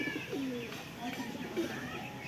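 A pigeon of a high-flying Giribaz-type breed gives soft, low coos close by, several short throaty calls over quiet background, with a voice speaking briefly.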